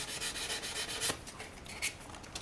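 A very low grit sanding stick rubs back and forth over a resin anime figure, a close, steady scratchy rasp in quick repeated strokes with a few harder scrapes.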